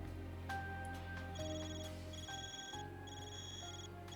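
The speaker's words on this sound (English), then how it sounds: "your Zephyr's ringing. Why does it sound so weird though?" A Zephyr communicator ringing in the video game Trails Beyond the Horizon, an odd electronic ring of layered tones that overlap and repeat in short bursts over a steady hum of background game music.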